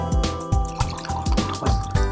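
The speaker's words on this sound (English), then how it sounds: "In the left glass, I'll put hot water." Hot water poured into a glass, a run of repeated liquid splashes and gurgles at a quick, uneven rhythm, close and fairly loud.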